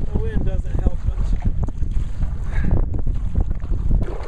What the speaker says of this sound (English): The wind doesn't help much.